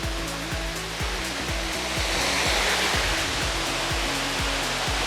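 A powerful waterfall in the Royal Belum forest of Malaysia after rain roars as a loud, continuous broadband rush, with regular low thumps running underneath.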